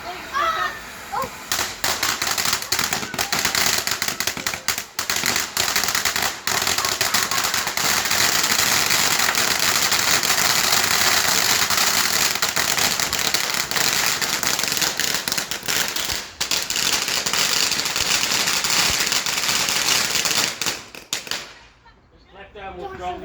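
Bonfire Night fireworks crackle and pop continuously in a loud, dense barrage outdoors for about twenty seconds, with a few voices audible among the bangs before the noise cuts off sharply at the end.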